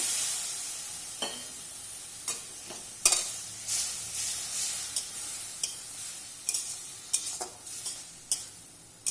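Masala frying for a rohu fish curry, stirred with repeated sharp scrapes and taps of a spoon in the pan over a faint, constant sizzle, close and without talk.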